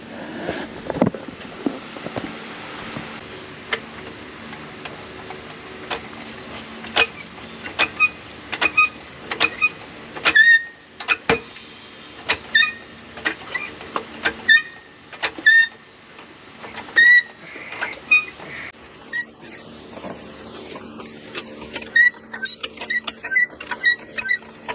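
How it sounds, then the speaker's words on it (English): Jack raising the rear end of a 2013 Buick Enclave, a run of repeated metallic clicks and ratcheting taps with short mechanical whirs, close and fairly quiet, spread unevenly across the whole stretch. "then we'll come under here and lift the back end of the vehicle."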